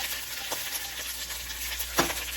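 Onion and garlic sautéing in a pan with bacon fat, a steady soft sizzle with a couple of brief stirring scrapes, one sharper clink near the end.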